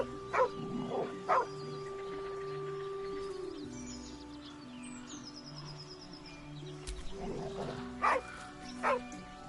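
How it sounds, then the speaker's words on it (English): A dog in Baldur's Gate 3 gives low growling and barking sounds over a steady game ambience, with a few louder bursts near the start and end. "The dog lowers his hackles, his head tilted inquisitively."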